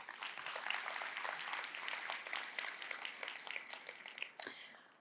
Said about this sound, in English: So give yourself a round of applause for being part of that mission.